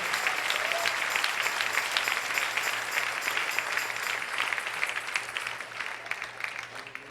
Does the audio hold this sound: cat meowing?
no